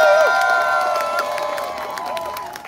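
At an outdoor labor union rally, a crowd claps and cheers with whoops, fairly loud and continuous, while sustained musical tones ring over the noise.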